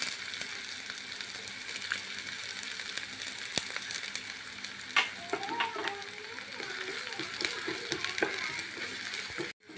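Chopped onion and ginger sizzle and fry in a pan, a steady hiss at moderate level with occasional stirring scrapes and clinks.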